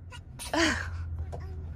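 A single short sneeze bursts out close by, brief and sharp, over a low background hum.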